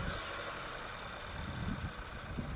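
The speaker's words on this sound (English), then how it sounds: "Let's start the engine." A Skoda Slavia car engine idles with a steady low rumble and faint uneven throbbing, fairly quiet and close, with no voices.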